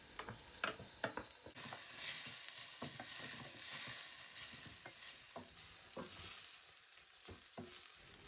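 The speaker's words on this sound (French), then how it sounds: "Je vais laisser mijoter, toutefois en mélangeant." Brown rice toasts in a pan while it is stirred, a soft, close sizzle broken by repeated scraping strokes and light utensil knocks throughout.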